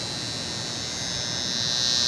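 A Philips electric beard trimmer motor running, a steady close buzz with a high whine that holds evenly throughout.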